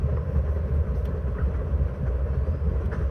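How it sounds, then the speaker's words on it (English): A moving train in the Master Detective Archives: Rain Code video game gives a steady, dense low rumble that rolls on without a break, with no voices over it. "The sounds of a running train, the wheels of fate chugging along."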